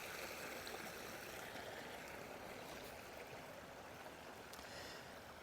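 Water bubbling steadily from an urn-style feature into a koi pond, a constant gentle burbling and splashing close by, running without pause and with no voices.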